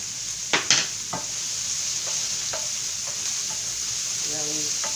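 Mushrooms and baby squash cook in butter in a pan, giving a steady soft sizzle throughout with a few stirring scrapes and utensil clicks near the start and no talking.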